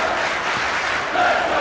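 A fight-night crowd at an HCL 9 bout roars steadily, a dense, sustained wash of cheering that swells slightly toward the end.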